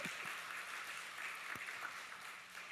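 Church congregation applauding during a Sunday worship service: faint, distant clapping spread through the hall, steady and low, with a few louder claps near the start.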